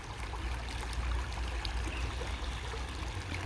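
A flowing stream of water rushes steadily and evenly throughout, a continuous broadband wash with no voices.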